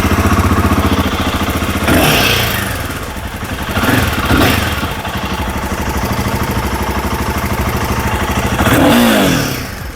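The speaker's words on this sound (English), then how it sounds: "let's listen to the exhaust note of this motorcycle." Royal Enfield Himalayan 450cc motorcycle exhaust, a loud close-up engine note that idles with a steady pulsing thrum and is revved in several short bursts.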